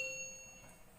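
A single bright notification bell ding rings out, clear and short, then fades away quickly with no other sounds.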